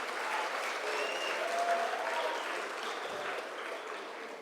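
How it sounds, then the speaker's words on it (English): Sustained audience applause fills a closing ceremony hall for the National Skills Competition in Ongwediva, Namibia, a steady dense clatter of many hands held at even loudness throughout, with faint crowd murmur beneath. "give them another warm round of applause"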